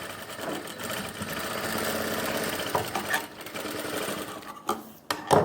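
A sewing machine stitches a women's pant in a tailoring class, a fast steady mechanical whirr running for several seconds up close, then breaking into short stops and restarts near the end.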